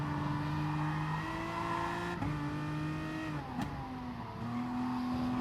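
Race car engine in Gran Turismo Sport, loud and steady, droning with sustained harmonic tones that step through gear shifts and dip briefly as the car comes sideways out of a corner, with no talk over it.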